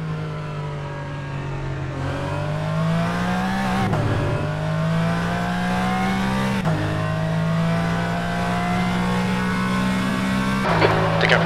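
Porsche Cayman race car engine in the rFactor 2 sim at Canadian Tire Motorsport Park, revving up steadily through several upshifts with sharp pitch drops, with tire squeal near the end.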